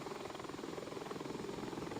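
Bell 412 helicopter during a hover flight test, its rotor and turbine drone pulsing steadily and loudly as the throttle is rolled open, with no talk over the continuous chopping whine.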